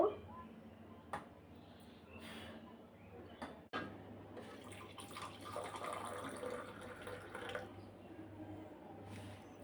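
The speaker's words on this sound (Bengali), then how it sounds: "এই তো এখন চাটা ঢেলে নিব।" Tea being poured for breakfast, a faint trickling, filling splash with small drips and a clunk partway through, quiet and close against low background hum.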